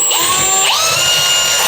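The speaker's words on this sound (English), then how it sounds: "I'm just going to pre-drill." A power drill pre-drills holes into a wall stud to mount a bathroom grab bar, its loud, high whine sliding up and down in pitch as the bit spins and bites, with no talking.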